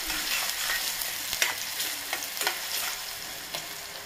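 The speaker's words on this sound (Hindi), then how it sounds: "2 मिनट के लिए अपन फ्राई कर लेते हैं प्याज को," Two small medium-sized onions fry in a pan, giving a steady, loud sizzle throughout with occasional stirring scrapes, and no voices.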